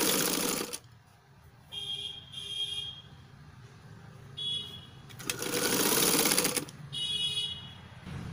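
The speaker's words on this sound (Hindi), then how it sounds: "इस तरह से हम इसके बहुत ही सुंदर राउंड के अंदर स्टिचिंग ले लेंगे।" An electric sewing machine stitches a designer blouse in short bursts, with several quick whirring runs separated by pauses and small clicks, fairly close and alone.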